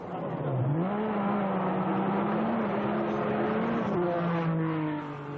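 A Metro 6R4 rally car drives a stage, its engine holding a steady, fairly close drone with rising and falling pitch as it revs and shifts.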